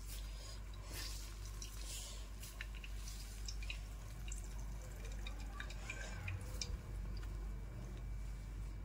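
Water squeezed by hand out of vegetables being prepared for veg momos, dripping into a vessel in a home kitchen; soft, irregular drips and trickles over a steady low background hum.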